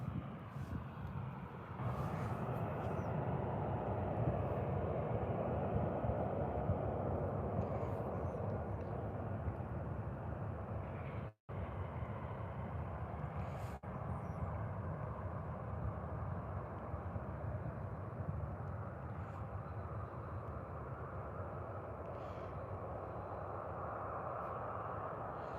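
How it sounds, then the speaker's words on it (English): A Ryanair Boeing 737 airliner at Birmingham airport gives a continuous broad jet roar that holds steady for the whole stretch, heard from a distance and buffeted by wind noise, with no talking over it. "I have a Ryanair heading now, 737."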